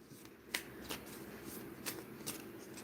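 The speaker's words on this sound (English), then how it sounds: "So I'm going to shuffle up these island wellnesses." A deck of reading cards is shuffled up close, several soft riffling bursts at an uneven rhythm against a faint quiet background.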